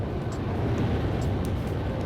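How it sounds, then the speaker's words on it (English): A fighter jet in the video game Ace Combat 5 gives off a steady, dense roar of engine and wind noise without a break, loud and continuous with no speech. "I can't believe we're both flying the same type of plane."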